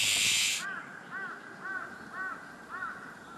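Large-billed crow giving five evenly spaced harsh caws at the edge of a forest near houses, fairly close and clear, following a brief burst of bright hiss at the start.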